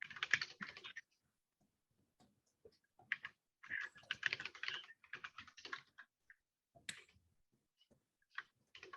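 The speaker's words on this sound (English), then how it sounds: "Someone's typing on the board." Bursts of quick clicking keystrokes on a computer keyboard, close and fairly quiet, separated by short silent pauses.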